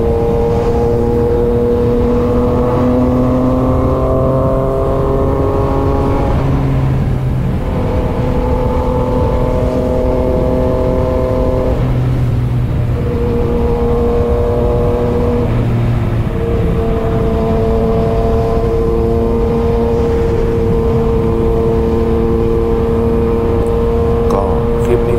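Yamaha MT-09 motorcycle with a loose exhaust nut revving inside a tunnel, a loud, echoing exhaust roar rising and falling in several long pulls, with a voice talking over it.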